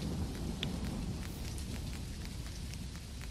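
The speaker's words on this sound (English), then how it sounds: "let's get out of this rain" Steady rain pours down in the farming game Dinkum, a dense continuous wash of patter with scattered droplet ticks, loud and close throughout with no voices.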